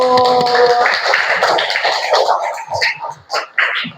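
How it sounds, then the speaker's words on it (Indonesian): Fifth-grade children in a classroom clap together, with voices briefly chanting at the start before a busy patter of close, uneven claps that thins into scattered claps and chatter. "Kasih tepuk tangan dulu"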